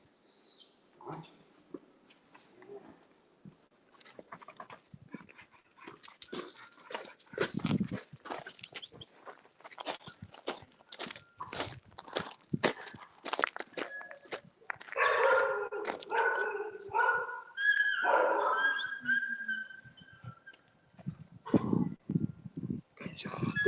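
A female dog barks and yips in short bursts during a training session, close and moderately loud, with a person talking over and between the barks.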